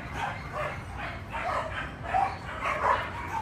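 A dog barks and yips in an outdoor play yard, with several bursts spread across the few seconds at moderate, fairly steady loudness.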